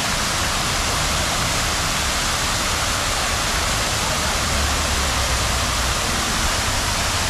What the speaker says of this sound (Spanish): Y por acá, amigos, tiene una bonita cascada que ahorita está todo lo que da.